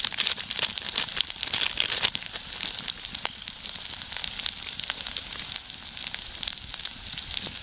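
Chili powder added to ginger-garlic paste and spices frying in a hot pan for a rohu fish and yam curry, giving a steady close sizzle and crackle with scattered small pops and no talking.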